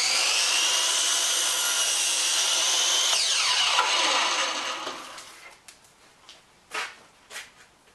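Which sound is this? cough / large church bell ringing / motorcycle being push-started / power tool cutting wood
power tool cutting wood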